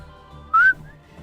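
A single short, clear whistled note that glides slightly upward, loud and close, with faint background noise before and after.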